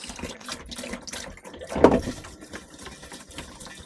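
Water poured into an RV tank splashes and trickles steadily, swelling into a louder gush midway before settling back to a running pour.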